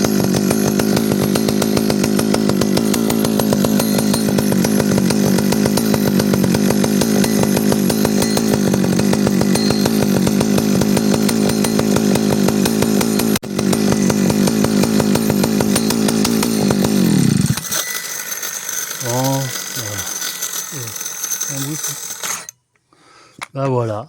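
A chainsaw running after its carburetor was cleaned and it was restarted, a loud steady idling drone for about eighteen seconds, then it cuts out, leaving clicks and mechanical handling noises.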